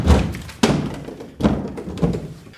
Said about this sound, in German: Es zeigt eine Gruppe von Menschen, die anfangs unbeschwert Stühle stapeln.